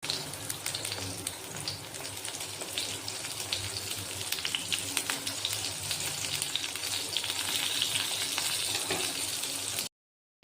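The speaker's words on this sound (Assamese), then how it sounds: "এয়া মোৰ বেঙেনা কুটি থৈছোঁ, এতিয়া ভাজিম।" Chopped brinjal frying in a pan gives a steady, moderate sizzle that continues alone for about ten seconds before cutting off.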